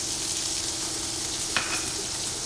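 Spices sizzle in a curry base for chicken curry, a dense, steady frying hiss throughout with a brief stirring clink partway through.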